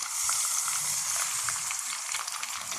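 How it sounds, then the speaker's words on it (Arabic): Grated onion hits hot oil in a pot, sizzling and crackling loudly and continuously, close up with no voices, while cooking for Egyptian koshari sauce. "شويه زيت من الحلوين اللي احنا كنا عاملين فيهم البصل، واجي نزل عليهم ببصل مبشور"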